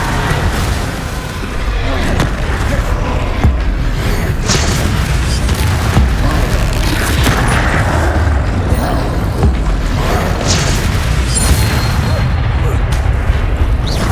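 Confringo blasting spells explode again and again in Hogwarts Legacy during a duel. The dense, rumbling booms are loud and continuous, and voices call out over the clamor.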